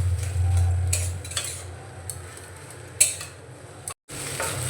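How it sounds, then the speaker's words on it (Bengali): Grated boiled potato being stirred with spices in a pan for an oil-free roll, heard as close scraping and clinks of a utensil against metal over a low steady hum, with a sharp knock near the end. "গ্রেট করে রাখা আলুটা দিয়ে আমি মশলার সঙ্গে ভালো করে কষিয়ে নিচ্ছি"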